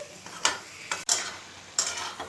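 Chicken do pyaza being sautéed in a pan, with soft sizzling under three or four sharp scraping stirs of a spoon against the pan.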